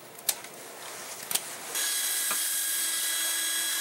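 Hand sanding on a whittled hardwood knife handle, a few short scraping strokes followed by a steady, bright abrasive hiss that continues to the end, close and moderately loud with no talking.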